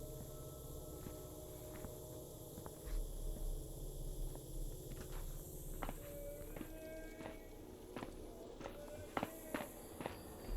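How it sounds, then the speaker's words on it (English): Footsteps from a patrolling guard echo around a nearby corner in the stealth game The Dark Mod, soft irregular steps over a low ambient hum, growing slightly louder with a few sharper knocks toward the end. "I hear the footsteps around that corner to the left."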